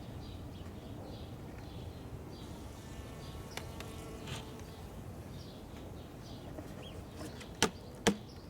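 Steady, close buzzing of many honey bees humming continuously in a box, with two sharp clicks near the end.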